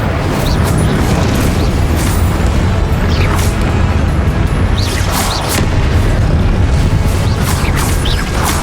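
Spell blasts from Confringo and Incendio in Hogwarts Legacy, a dense, continuous wall of booming explosions and fiery bursts with crashing impacts layered over loud game ambience, no voices.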